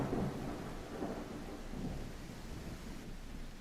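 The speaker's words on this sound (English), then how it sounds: "thank you, Dondi, for the lightning" A low, rumbling roll of thunder from lightning in a video game fills the scene, loud at first and then fading into a steady rain-like wash.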